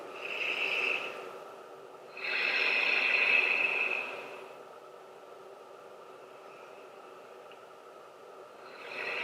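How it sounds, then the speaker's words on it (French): Slow, deep breaths during a yin yoga session, two long airy exhales close to the microphone separated by quiet, with a third breath beginning at the end. "Faites encore 2 ou 3 respirations."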